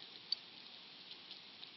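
Soft, steady rainfall in Persona 4 Golden, a faint even hiss of falling drops with a few slightly sharper ticks, quiet and without voices.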